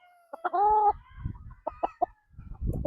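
Gary Gilliam Roundhead gamecock crowing close by in one full drawn-out call, followed by short clucks and low rustling noises.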